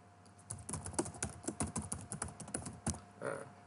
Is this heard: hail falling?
no